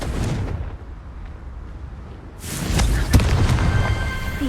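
In Hogwarts Legacy, the Confringo fire spell lands with a sudden, loud, broadband blast that rolls into a sustained rumbling roar with crackling bursts, following a lower, muffled background of game ambience.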